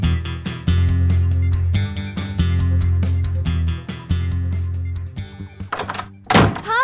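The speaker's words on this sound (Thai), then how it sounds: "ทำไมปิดประตูเสียงดังนักล่ะลูก" A door slammed shut indoors gives several loud, sharp thunks spread across a few seconds, each one ringing briefly over a music bed.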